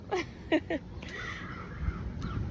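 A crow caws loudly three times in quick succession nearby, followed by quieter outdoor ambience.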